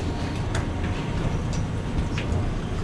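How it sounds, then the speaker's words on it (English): Steady low rumble of a Las Vegas airport tram in motion toward baggage claim, with occasional faint clicks and squeaks over the continuous drone. "Alright, we're in the train."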